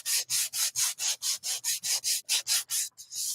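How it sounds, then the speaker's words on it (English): Sandpaper rubbed by hand across a wooden Easter craft piece makes a rapid, even series of about a dozen close, raspy back-and-forth strokes with brief gaps between them. "now I'm gonna sand it a little bit"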